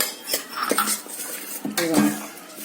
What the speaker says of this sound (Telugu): అంతా శుభ్రంగా కలిపేసేసుకోండి బాగా కలిసేలాగా